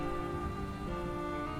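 Rain falling in somber, rainy Paris in the game Gibbous - A Cthulhu Adventure, a soft steady patter of drops on surfaces under faint background music, unbroken for the whole moment.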